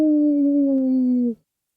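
A voice imitates wind howling through trees: one long, steady, eerie moan held for over a second, then cut off into silence.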